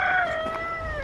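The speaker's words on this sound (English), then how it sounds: "It sounds like the chickens are all having a set to at the moment" Chickens in a summer vegetable garden cry out in a drawn-out, crowing call with a clear tone, heard close and fairly loud over faint background noise, with no talk.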